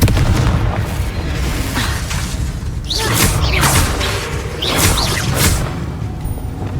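A Confringo spell blast in a magic video game: a loud, booming burst with whooshing bright streaks, repeated in a couple of surges over steady, dense game noise.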